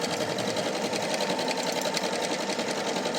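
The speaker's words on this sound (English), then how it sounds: "look at how nicely that's sewing." An Eversewn Sparrow QE sewing machine stitching a heart pattern, running in a fast, even mechanical whir with a rapid rhythmic needle pulse, close and continuous throughout.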